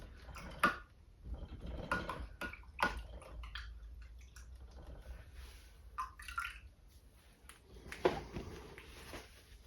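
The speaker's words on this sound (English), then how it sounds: "I'm going to rinse this brush out again." A paintbrush rinsed in a water container while cleaning glaze from it, with quiet swishes, drips and light knocks against the container spread across several seconds, close and soft.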